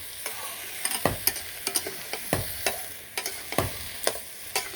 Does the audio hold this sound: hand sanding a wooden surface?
no